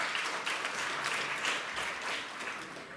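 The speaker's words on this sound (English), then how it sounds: "give Alan a really big clap." Audience at a Lord Mayor's climate gathering gives Alan Jones a big round of applause: a full, continuous burst of many hands clapping at a fairly loud, even level throughout the short stretch.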